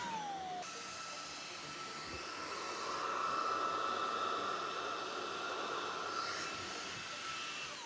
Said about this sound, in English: Now let's just pick the same thing up with that vacuum.